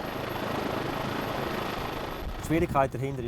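A hovering Rega rescue helicopter fills the air with a steady rotor thump and engine roar during a winch rescue, and a voice briefly speaks over it near the end.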